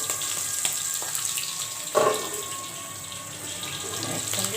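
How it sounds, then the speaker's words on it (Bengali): Tangra fish dropped into hot oil in a pan, sizzling and spattering in a steady hissing rush with a brief sharper pop of splatter in the middle, no talking over it. "ট্যাংরা জাতীয় এইসব মাছগুলো প্রচণ্ড হারে ফাটে, তাই ভয় ভয় করে ছাড়ছি"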